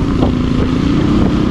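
A motorcycle passing on a wet road during rain, a steady close rumble with a hiss of spray and splashing throughout, no voices.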